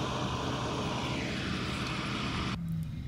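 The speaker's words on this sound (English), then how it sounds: "Right now I can hear my fans." A loud, steady whirring drone of car engine cooling fans running close by at 20% duty cycle during an active test, with one fan not working, then part of the noise cuts out abruptly near the end.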